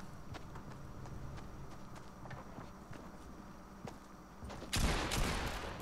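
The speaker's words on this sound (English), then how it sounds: "So finally I'm shooting at him." Rapid gunfire from the Fortnite video game: faint, scattered shots rattle for several seconds, then a louder, denser burst of firing erupts near the end.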